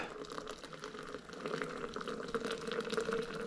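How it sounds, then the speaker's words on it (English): Hot water poured into a coffee brewer, 500 grams filling the vessel in a steady, close stream that swells slightly louder partway through, a continuous gurgling wash with no talking. "let's get our hot water, and I'm going to put 500 grams of water in here"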